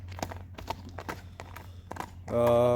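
Horse hooves clop in an uneven rhythm across a farm yard, moderately close, before a sustained animal call or voice takes over at the end.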